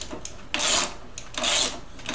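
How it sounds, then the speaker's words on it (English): A self-locking nut being turned onto the front wheel axle of a 1974 Honda CB360T scrambler, giving two near, rasping scrapes about a second apart, with light ratcheting between them. "I can spin the nut on there and get that tightened up"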